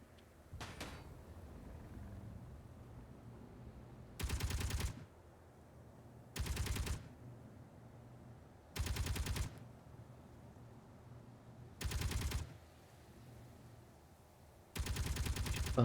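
A turret in the video game Space Engineers fires in short, loud, rapid bursts, five of them spaced a few seconds apart, with quieter game ambience in between.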